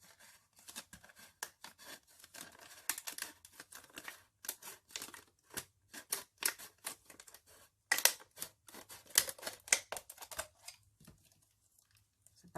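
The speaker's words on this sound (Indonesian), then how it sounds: "Kemudian digunting." Scissors snip through a plastic bottle being made into a pencil holder, a run of crisp, irregular cuts and crinkly crunches, close and fairly quiet, with brief pauses between bursts and no talk.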